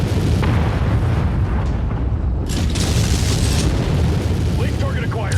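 In the MechWarrior video game, missiles fire and explode in a dense barrage of booming blasts and rumbling bursts over a constant low roar, with layered impacts throughout and loud crackling detonations toward the end.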